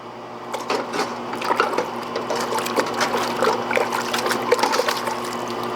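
A hot forged steel stamp for an American flag design is quenched to cool it, giving a steady watery bubbling and trickling hiss with small crackles running throughout, fairly close and continuous.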